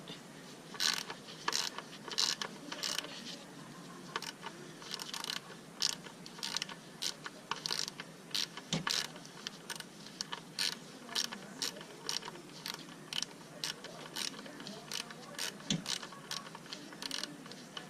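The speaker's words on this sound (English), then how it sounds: "now we're going to start removing the bolts off the motor to the coil pack." A ratchet clicks quietly and rapidly in bursts as coil pack bolts are removed from the engine of a Mercedes-Benz CL600 W215, with steady pawl ticking close by and no voices.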